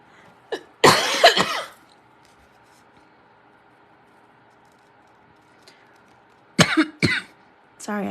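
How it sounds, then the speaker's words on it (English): Three separate bouts of coughing from a nearby person, a short harsh burst, a longer rough one, then a quick double cough near the end, with quiet room tone between them. "Sorry, I keep coughing in your guys' ear."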